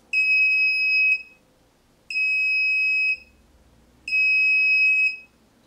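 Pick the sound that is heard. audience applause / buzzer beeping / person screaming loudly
buzzer beeping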